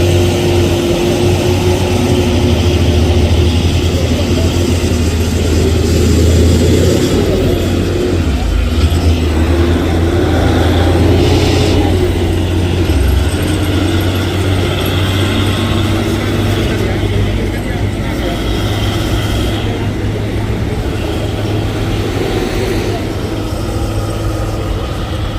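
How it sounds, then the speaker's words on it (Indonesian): A Tronton truck trailer climbs a hill at Bukit Kodok, its heavy engine droning loud and constant with a deep low rumble the whole time and no voices. "Truk tiba-tiba kehilangan tenaga namun bisa terkendalikan"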